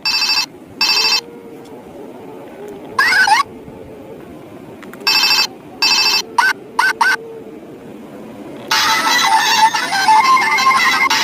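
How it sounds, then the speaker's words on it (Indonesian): A Hello Kitty toy telephone gives several short electronic ringing bursts in an irregular pattern, with gaps between them, then a longer, louder ringing passage at the end, heard close and without talk. "ini ada telepon Hello Kitty"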